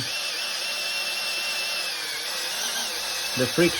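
A power drill whirs steadily at high pitch for several seconds, close and loud, ending with a couple of brief knocks.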